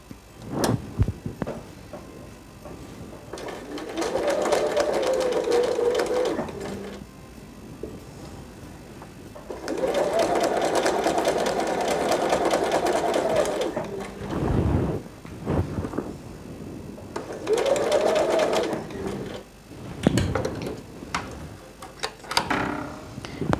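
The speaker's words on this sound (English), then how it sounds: "Now I'm going to stitch in the ditch right here where on the seam line" A sewing machine stitches in the ditch along a seam line between two fabrics of different colours, running in three steady bursts of several seconds each, separated by short pauses and handling clicks.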